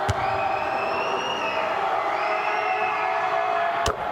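Gonzaga's masked, distanced cheer squad cheers at a basketball game against Santa Clara, a sustained crowd roar with rising whoops and shouts filling the arena while a free throw is taken.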